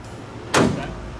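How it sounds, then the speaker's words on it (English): Car door swinging shut on a Honda-swapped Ford Model A rat rod with an S2000 four-cylinder, a single sharp close thud midway, near and fairly loud over a quiet idle-like background hum. "I actually don't even know if the door will close with my knee here"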